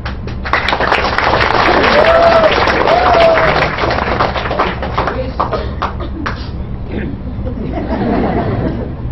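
Audience applause at a VMobile business presentation: scattered clapping and crowd chatter beneath a man's amplified speech, with talk continuing throughout.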